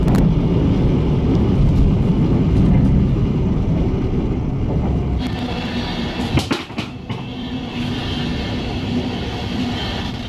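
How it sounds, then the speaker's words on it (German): Inside a regional train carriage running toward Treuchtlingen on the line from Nürnberg, a loud, continuous rolling rumble fills the car, with a few sharp clicks and rattles partway through and no voices. "Herzlich willkommen in der Regionalbahn nach Treuchtlingen."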